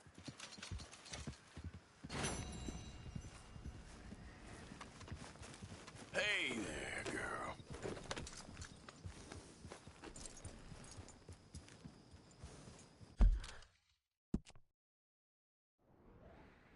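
Horse hooves clip-clop in the video game Red Dead Redemption 2, a steady trotting patter under speech with a brief whinny before the sound cuts out near the end.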